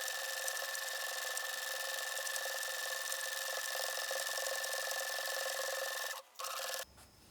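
A sewing machine quilts a block with monofilament thread on top and white thread below, a steady, close mechanical whir with a constant tone that breaks off briefly near the end and then stops.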